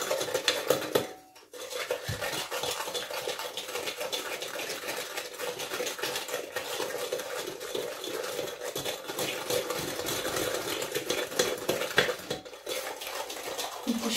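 A utensil stirs and mixes apple tart batter in a bowl, giving a steady run of clinking, scraping taps against the dish, close and moderately loud, with a brief pause near the start.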